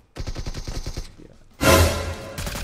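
Rapid gunfire in PUBG: a quick rattling burst of shots, a short lull, then a louder, harsher volley close by, with no talking.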